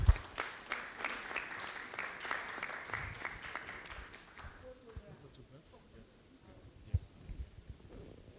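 Audience applause after a panel discussion, a dense burst of clapping that runs for about four seconds and then thins out into scattered claps, with a voice speaking as it fades.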